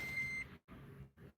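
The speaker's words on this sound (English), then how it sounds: "My car likes to beep a lot" Repeated electronic warning beeps from a parked car, a steady tone broken by short gaps, fairly faint, with no talking.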